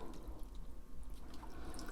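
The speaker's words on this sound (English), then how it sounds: "So I'm just going to fill it up with more water," Water is poured to refill a pot holding a wintersweet plant, producing a soft, continuous splashing trickle with faint drips, fairly quiet and close, with no talk.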